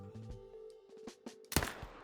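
A single sharp hunting rifle shot in the hunting game theHunter: Call of the Wild, a short loud crack with a brief tail after quiet ambient game sounds.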